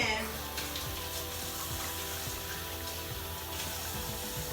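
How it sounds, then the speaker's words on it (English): Tap water runs steadily over raw cube steaks in a kitchen sink, a continuous close hiss and splash that holds for the whole stretch. "I got some water running on them"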